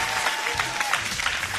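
A studio audience at a German show applauds in a brief burst of dense, even clapping, with a faint murmur of voices underneath.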